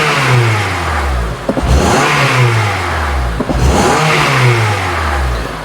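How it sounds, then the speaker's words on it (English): A Honda Element engine, which has a loss-of-power and surging fault, revs up twice from a steady idle, each time rising sharply and then falling back, loud and close throughout. "I'm gonna rev up the engine."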